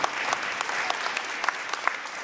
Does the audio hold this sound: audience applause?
yes